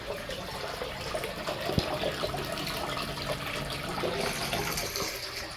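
Sump pump running non-stop in the flooded basement of an old house, giving a continuous rushing, gurgling water sound with a couple of faint knocks.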